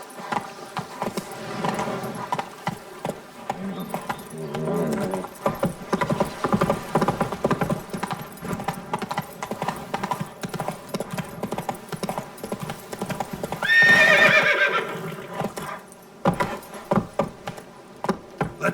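Roach the horse from The Witcher 3 moves along in game, hooves clip-clopping in a rapid, steady rhythm with jangling tack, a brief whinny partway through, and faint talk underneath.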